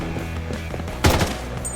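Gunfire in the shooter game Blood Strike, a sharp burst of several rapid shots around the middle over a steady low game-sound backdrop, fairly loud and close with no talking.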